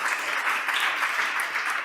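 A steady patter of applause fills a school committee meeting room for a student representative, moderate and continuous for a couple of seconds.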